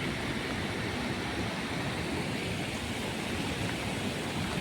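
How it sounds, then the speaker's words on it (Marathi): Water pours from the open gates of the Kurze dam into a canal, a constant, even roar with no breaks, heard from nearby at moderate loudness without any voices. "हा साचलेला पाणी कॅनलमध्ये जात आहे"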